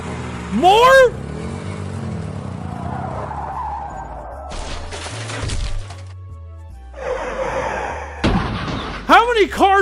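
A video game car pile-up brings tyre skids, sliding screeches and impact slams from several cars, loud and chaotic with engine noise in between, while a person talks over it.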